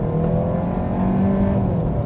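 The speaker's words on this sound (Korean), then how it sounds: "이 상태에서는 가속 페달을 바로 하나 둘 셋." A Kia Sportage 1.6 gasoline turbo with a 7-speed DCT pulls away under hard acceleration from a 2000 rpm hold, giving a steady, loud engine drone that rises slightly in pitch, heard from inside the cabin with no talking.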